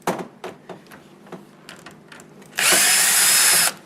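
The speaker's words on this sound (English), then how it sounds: "So I'm just going to unscrew here" A power drill unscrews the two screws holding a door closer on a door handle assembly, first in short stuttering bursts, then one loud, steady whir for about a second near the end.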